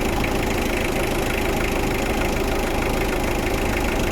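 A car engine with a hard-starting problem idles steadily up close, a constant low rumble with a faint knocking texture and no talking.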